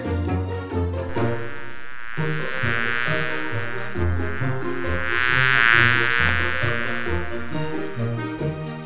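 A Maya the Bee magic toy gives a continuous close electronic buzz laced with tinkling musical tones, steady for about nine seconds with no talking.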